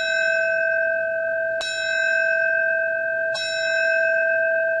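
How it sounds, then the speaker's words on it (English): A fire bell rung at the Ground Zero ceremony for firefighters who died, two clear metallic strikes about two seconds apart, each ringing on with a long sustained tone, no voices. "A fire bell for the firefighters who died."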